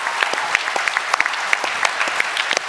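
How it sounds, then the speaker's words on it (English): Audience applause at a real estate conference, scattered individual claps with sharp distinct hits over a thin crowd background, moderately loud and with no talking. "give him a big round of applause for stepping up here"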